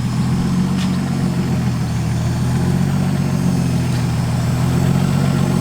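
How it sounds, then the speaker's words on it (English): Loud steady hum of twin fuel pumps on a 2JZ-swapped Honda Civic, a continuous low drone with an idling engine character, close and unbroken throughout. "That fuel pump is so loud."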